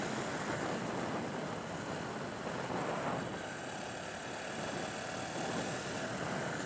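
A Honda Super Cub motorcycle with a YSS rear shock rides along a road without a bike lane, giving a constant broadband engine and wind roar that stays steady and loud throughout.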